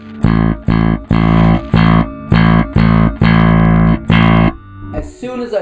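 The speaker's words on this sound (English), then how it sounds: "what I do with the drive is I'll just slowly turn it up." A Fender bass plays steady repeated notes with the drive gradually turned up, a loud, thick, growling tone in rhythmic bursts, ending in a scratchy rustle.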